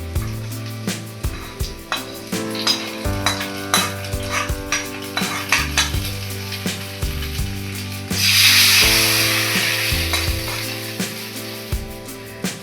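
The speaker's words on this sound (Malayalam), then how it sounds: "ചുവന്നുള്ളിയൊക്കെ ഒന്ന് നന്നായിട്ട് മൂത്ത് വരട്ടെ" Red shallots fry in a pan for a kadala chickpea curry, with a steady sizzle under repeated utensil stirs and scrapes, plus a brief louder burst of spitting partway through; no one talks.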